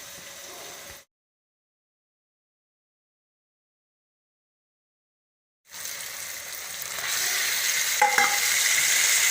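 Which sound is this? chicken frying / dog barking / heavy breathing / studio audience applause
chicken frying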